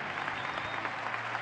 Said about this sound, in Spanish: La gente que aplaude la salida de la ambulancia